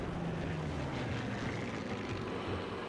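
A steady low generator engine whir in the video game Sniper Elite III drones continuously, a dense mechanical rumble with no variation, heard close and alone.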